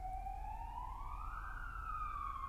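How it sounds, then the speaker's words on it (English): An ambulance siren passes by, its wailing tone rising and then slowly falling over a steady low traffic rumble. It stays loud and continuous throughout, with no talking. "an ambulance or something going past"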